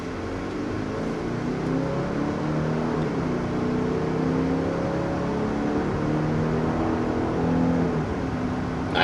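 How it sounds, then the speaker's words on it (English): A 2023 Genesis GV80 2.5T pulls hard from a red light up to about 60 mph, its engine note rising in steady sweeping tones under a constant interior road hum, with no one talking. "Nice acceleration up to 60 miles per hour in the short span between that red light and this red light."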